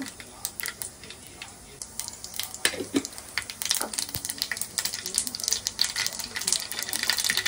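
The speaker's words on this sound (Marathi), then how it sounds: "राई टाकली आहे, जिरं पण टाकलंय।" Mustard seeds and cumin sizzle and crackle in hot oil for a tadka, a steady frying hiss with scattered sharp pops that grows denser and louder toward the end, close by with no talk.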